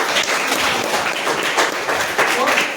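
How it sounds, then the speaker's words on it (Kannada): Schoolchildren and audience at a government primary school talk on child health and personality development break into clapping for a student, a loud, dense patter of many hands that stays near and steady, with voices mixed in. "ಮತ್ತೆ ಅವನಿಗೊಂದು ಚಪ್ಪಾಳೆ."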